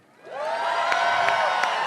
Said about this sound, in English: I had to stop because they were cheering